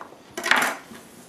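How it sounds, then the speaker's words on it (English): A single knife stroke cutting the woody ends off asparagus on a board, a short close crisp snap-and-thud standing alone in a quiet kitchen. "we're just going to cut off the ends of this asparagus"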